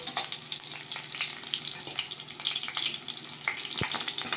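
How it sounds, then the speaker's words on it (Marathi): Cumin and ginger-garlic paste fry in oil for a stuffed brinjal curry, giving a soft, fairly quiet sizzle with light crackles and an occasional clink. "आता ही याच्यात आपण फ्राय करून घेणार आहोत।"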